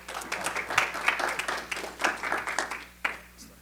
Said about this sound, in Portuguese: Você não dá um aplauso ao Senhor pela vida do nosso irmão